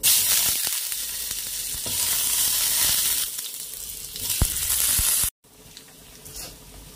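Potatoes frying in a pan, a loud continuous sizzle stirred now and then with a few clicks of a utensil, cutting off abruptly near the end and resuming more quietly.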